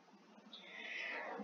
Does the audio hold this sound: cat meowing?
yes